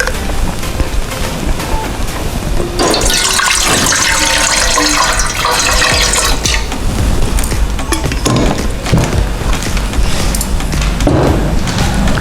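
Half a litre of water pours steadily and loudly into a large pot on a gas stove while little millet kheer is being made. It runs for several seconds alone, with faint clinks of the pot before and after.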